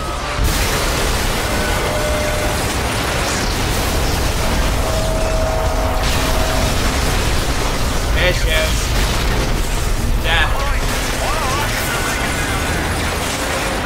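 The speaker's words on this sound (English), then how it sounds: "I can't hear you over all the explosions." Constant loud booms and blasts fill a BioShock Remastered firefight, a dense roar of explosions and gunfire with brief shouted voices on top.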